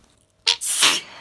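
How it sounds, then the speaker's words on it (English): A single close, loud human sneeze: a sharp intake, then an explosive burst trailing off over about half a second. "I was just about to turn my phone off and I started sneezing"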